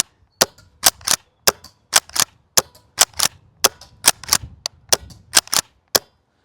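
A Golden Eagle KSG pump shotgun fires in rapid bursts, many sharp cracks in quick irregular succession, loud and close, with brief pauses between shots.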